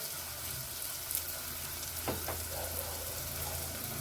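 One tablespoon of homemade raw ginger garlic paste frying in a pan, a steady close sizzle with a couple of brief stirring scrapes.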